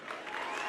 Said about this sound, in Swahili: simama tukupigie makofi